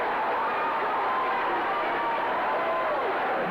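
A hockey arena crowd rises in a standing ovation, a steady wash of cheering and applause with distant voices blended through it.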